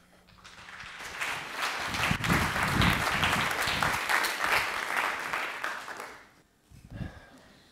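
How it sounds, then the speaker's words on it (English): A conference audience at an Elixir programming event bursts into applause, the clapping swelling quickly and holding dense and loud for several seconds before fading, then a short final burst. "Everybody a round of applause for Justin Schneck."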